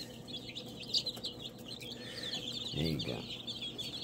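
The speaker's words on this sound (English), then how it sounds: "Can you tell if you got lots of chicks in the hatchery?" Chicks and chickens in a hatchery, with soft peeping chirps and clucks close by, under a brief spoken phrase and steady background hum.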